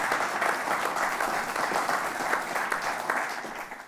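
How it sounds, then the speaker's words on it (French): Audience applause in a small auditorium, a steady wash of many hands clapping at moderate loudness from start to finish, with no speech over it. "Eux, on peut les applaudir"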